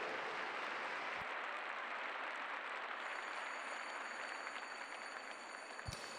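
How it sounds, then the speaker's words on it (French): Audience applause fills the arena at the Saut Hermès 2019 CSI5* show-jumping event, a steady, dense wash of clapping from a large crowd that holds evenly for several seconds. "Je pense qu'Olivier Perrault aimerait bien entendre vos applaudissements retentir."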